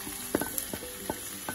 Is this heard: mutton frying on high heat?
yes